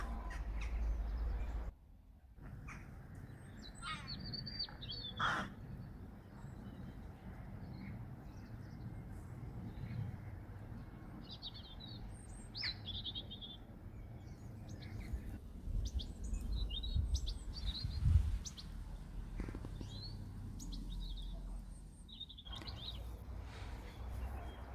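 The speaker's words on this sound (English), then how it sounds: "the birds are chirping loud" Crows caw loudly and repeatedly while smaller birds chirp on a wire after rain, scattered calls near and far over a quiet outdoor background.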